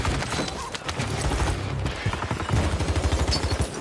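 Gunfire in a Call of Duty Rebirth Island match: a string of rapid, close shots and impacts in an irregular rhythm amid constant game noise, with brief player voices underneath.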